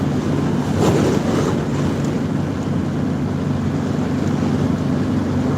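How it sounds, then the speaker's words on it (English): A stiff east wind roaring past, a loud, steady broadband rush buffeting the microphone with slight gusting swells and no voices. "Oh yeah, that's a stiff east wind here."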